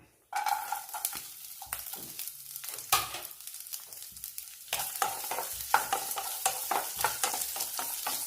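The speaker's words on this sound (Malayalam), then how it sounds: "ചൂടായ എണ്ണയിലേക്ക് തേങ്ങാക്കൊത്ത് ചേർക്കാം." Coconut pieces fry in a tablespoon of hot coconut oil on a medium flame, sputtering and crackling up close in irregular bursts, with clattering stirring and scraping against the pan and no talking.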